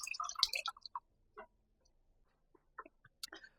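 Sparse drops of coconut water from a cracked-open coconut splash and drip in quick bursts, then slow to a few scattered plinks against near silence.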